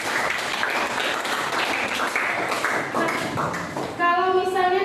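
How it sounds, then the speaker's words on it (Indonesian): Classroom applause from students, a dense crackle of many hands clapping near and moderately loud, with chatter and a teacher's voice mixed in, ending in a brief ringing chime. "Nah, tepuk tangan lah dulu."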